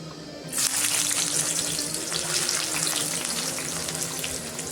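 Chopped onions hit hot oil in a kadai and break into a loud, steady sizzle that crackles on without pause, close up, with no voices.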